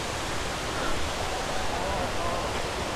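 Steady, dense rushing water roars without pause, a broad, even wash of noise from Mae Ya Waterfall in Chiang Mai, about 80 meters wide and 260 meters high, heard from nearby.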